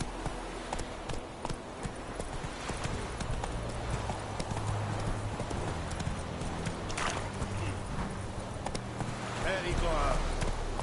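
Horse hooves clop steadily at a gallop through The Witcher 3, a continuous rhythmic beat with a brief whinny near the end, while a rider calls out to the horse.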